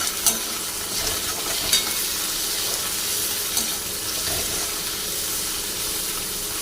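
Tomato softening in a pan with coconut as taro greens are cooked, giving a steady close frying hiss with a few light stirring clinks, no voices.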